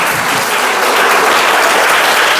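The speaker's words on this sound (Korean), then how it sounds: "이루실 하나님께 영광을 박수 올리겠습니다." A church congregation at a Sunday revival service breaks into loud, dense applause, a thick continuous wash of many hands clapping at once that fills the room throughout.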